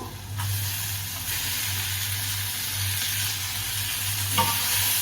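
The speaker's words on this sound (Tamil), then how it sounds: "அப்புறம் இனி தக்காளியை போடுவோம்" Tomatoes frying with well-roasted onions in a pan for a Kumari-style squid chukka, giving a steady, close sizzle and hiss with a low hum beneath and a brief clatter near the end.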